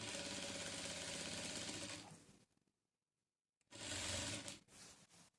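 A sewing machine stitches a border onto the belt of a frilled lehenga, running in a loud steady whir for two seconds, stopping briefly, then starting again in a short burst.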